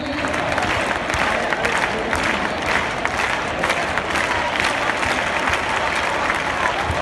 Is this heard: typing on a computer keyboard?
no